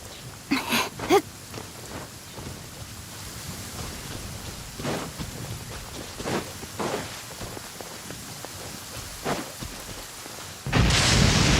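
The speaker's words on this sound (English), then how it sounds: "Quite a downpour." Heavy rain downpour in Genshin Impact, a steady hiss of falling rain with intermittent thumps and a rumble of thunder, loud and continuous without speech.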